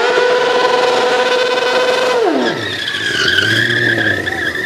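A motorcycle engine revs hard at a moto show in Kilkis, its loud sustained whine sliding down in pitch and then climbing again, with crowd noise beneath and no clear talk.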